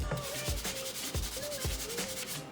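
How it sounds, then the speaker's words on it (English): Dark spots are scrubbed off a dried gourd shell, a close and loud rasping rub in even back-and-forth strokes about twice per second, with no talking. "I'm just going to be scrubbing it off"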